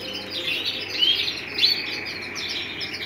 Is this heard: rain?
no